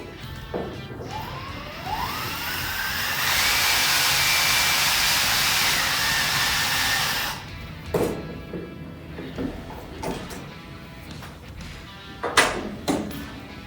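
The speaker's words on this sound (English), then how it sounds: "Now that we're done machining both the Inconel and the Hastelloy with that STS-1" A Tri Tool 300STS-1 facer machining Hastelloy gives a loud steady hissing cutting roar for several seconds, with a rising tonal whine at its start, then stops, leaving sharp clanks and knocks of handling afterward.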